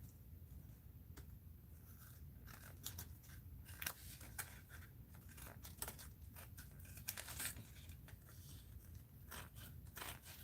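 Scissors make many short crisp snips, irregular and close, while paper for an art journal is cut. The paper rustles and crinkles in between in a quiet room with no talking.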